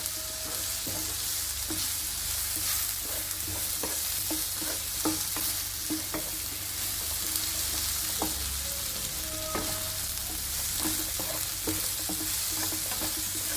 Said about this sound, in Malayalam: ഇങ്ങോട്ട് നമുക്ക് നന്നായി ഒന്ന് ഇളക്കി ആ പച്ച മണമൊക്കെ ഒന്ന് പോകുന്നിടം വരെ